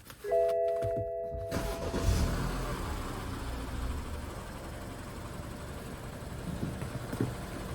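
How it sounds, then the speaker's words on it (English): A 2014 BMW F30 328i with fresh oil and filter fires up: a brief chime and cranking, then the engine catches and settles into a steady, smooth idle close by. "and now we can start the car."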